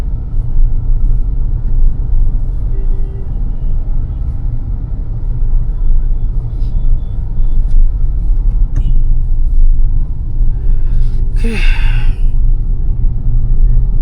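Inside a car driven by a beginner on city roads, a loud, steady low rumble of road and engine noise goes on throughout, with a brief faint higher sound near the end.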